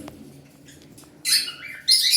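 Two short bursts of bright, busy chirping from tame pet birds break in after a quiet stretch, fairly close and lively.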